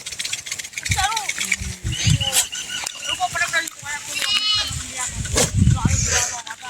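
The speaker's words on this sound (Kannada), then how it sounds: "ಇವೆಲ್ಲ ಕುರಿಗಳು ಅವ್ರ ತಾಯಿಗಳು ಹೊರಗೆ ಮೇಯಕ್ಕೆ ಹೋಗಿರ್ತಾವು" Young lambs left penned while the flock grazes bleat repeatedly in short, wavering cries, several overlapping close by, with people talking over them.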